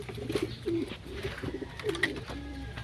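Pigeons coo softly near their water, several low warbling calls in an uneven rhythm, close and fairly quiet with faint background noise.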